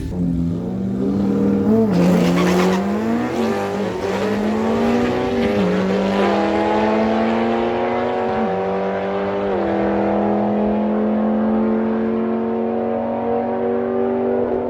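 Two cars launch side by side in a drag race, a Pontiac G8 against a Honda Civic, engines roaring loud and close and climbing through rising gear pulls before easing into a steady drone.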